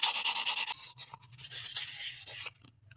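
Sandpaper rubbed by hand over a PVC pipe, close and loud, in quick rhythmic back-and-forth strokes with a short pause near one second and a sudden stop before the end.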